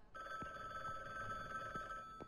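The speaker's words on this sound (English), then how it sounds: "Phone is ringing." A telephone rings in a video game set in a long-abandoned apartment, a steady, faint electronic bell tone held continuously, with brief clicks and no voices.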